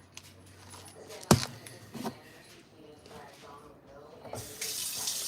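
A kitchen tap runs water for cooking rice, a soft, fairly faint hiss and trickle with a sharp clatter near the start and the flow growing stronger at the end, while someone talks now and then.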